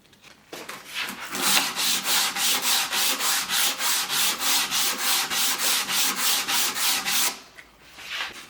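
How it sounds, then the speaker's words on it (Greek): Rhythmic back-and-forth scratching of 100-grit sandpaper on a sanding block over wood, about two dozen even strokes in a steady quick tempo, close and clear with no talking. "Πρώτα θα τρίψουμε το ξύλο με 100 και μετά 200."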